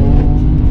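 Audi RS6-rivaling V6 engine with a tune mapped to 350 horsepower, revving in a steady, loud, dense roar that holds throughout with no voices over it.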